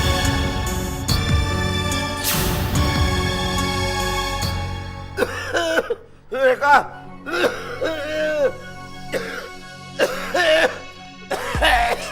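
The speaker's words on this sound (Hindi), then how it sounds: "कितनी खांसी हो रही है आपको" A person coughs repeatedly in harsh, throaty bursts over background music, the fits coming in irregular clusters near the listener.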